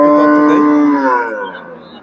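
A dairy cow at Chandaikona cattle market in Bangladesh gives a single loud, close moo that starts strong and trails off over two seconds.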